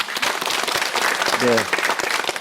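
Lecture audience breaking into brief applause, a dense wash of clapping hands with a short spoken word from a man partway through.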